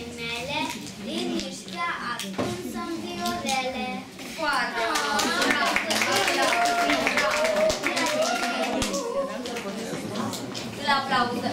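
Schoolchildren in a preparatory class clap for a classmate during a 100-days-of-school celebration, a scattered burst of hand claps mixed with lively children's chatter and an adult voice.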